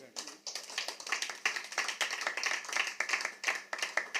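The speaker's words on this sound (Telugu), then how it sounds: "చప్పట్లు కొట్టండి" Congregation at a home church gathering claps hands together in a steady, rhythmic burst of many close claps, with voices mixed in beneath.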